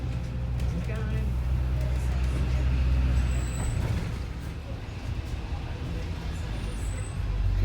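A bus rumbles along a road in Edinburgh, its deep engine drone steady and close, with faint high air-brake hisses around the midpoint and near the end amid traffic noise.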